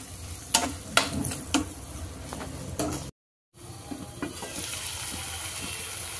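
Tomato pieces with salt sizzle in a pan for a gongura curry with makhana, with sharp stirring clicks and scrapes over a steady frying hiss that briefly cuts out midway.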